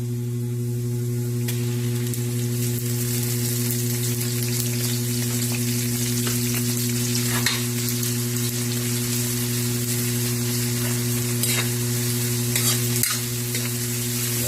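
Bagoong shrimp paste frying in a pan, a steady close sizzle with stirring scrapes throughout, over a constant low electrical hum; no one speaks.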